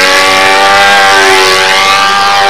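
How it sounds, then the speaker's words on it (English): A model Mustang aeroplane with a four-stroke engine roars past loudly in a sustained flyby, its Merlin-like whine holding steady while the pitch shifts slightly and exhaust crackle rides on top. "as it goes by, you hear that little exhaust crackle, just like a real aeroplane"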